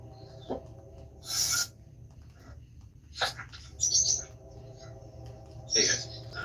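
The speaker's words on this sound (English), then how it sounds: "jeez, birds are loud" Loud bird chirps and tweets outdoors, arriving in several short bright bursts over a steady low background hum, with quiet gaps between the calls.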